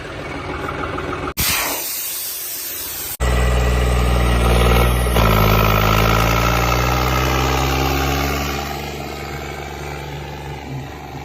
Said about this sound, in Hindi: ट्रैक्टर भैया बिट रहा है क्योंकि इस पर पाइप भी नहीं है